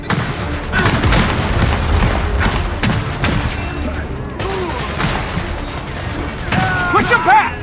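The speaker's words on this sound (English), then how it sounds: "Throwing frag!" A frag grenade going off amid gunfire in the shooter Gears of War 4: loud booms and bursts of rifle fire in quick succession, with soldiers shouting over the combat.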